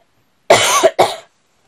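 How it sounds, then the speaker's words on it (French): Two harsh coughs, close and loud, the first longer and the second a short follow-up, then silence. "Je tousse."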